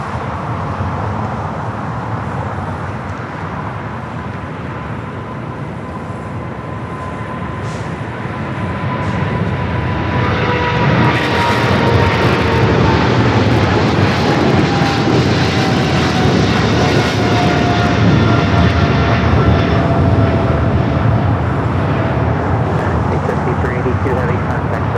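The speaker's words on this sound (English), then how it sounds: "that 777 freighter now rolling down to 25 left" A Boeing 777 freighter jet rolls for takeoff on runway 25L at Los Angeles International, a broad engine roar swelling louder about halfway through and holding steady, with a thin whining tone and voices talking over it.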